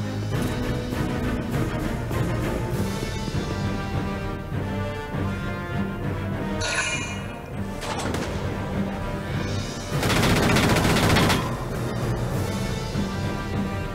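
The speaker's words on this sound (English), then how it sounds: "Tried to fire that machine gun and couldn't hit his target." Machine gun fire in the video game Valkyria Chronicles 4, a dense rattling burst about a second long that rises out of a busy backdrop of music and battle noise, with no talking over it.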